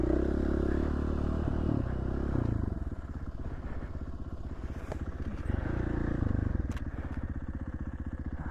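Motorcycle ridden along a backcountry trail in the Idaho outback, its engine chugging steadily and close with rhythmic pulsing, rising and easing as the rider works the throttle, with clattering and scraping from the rough ground.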